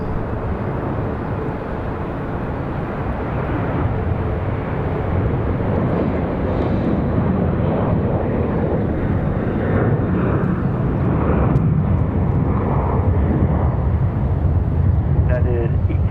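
Airliner departing Raleigh Durham International Airport on a flight to San Francisco, a loud continuous jet engine roar that swells and holds throughout, with faint distant talk underneath.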